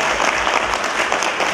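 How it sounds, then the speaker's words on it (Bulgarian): Steady, dense applause from an audience at a closing campaign rally for GERB mayoral and municipal council candidates in Gorna Oryahovitsa, loud and continuous throughout with no pauses. "още веднъж вашите аплодисменти за кандидати за кметове"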